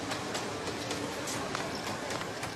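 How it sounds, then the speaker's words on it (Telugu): A train rumbles past in a steady, broadband roar with faint clattering of wheels over the rails, continuous and fairly close, with no voices. "నాన్న ట్రైన్ వచ్చినట్టుంది"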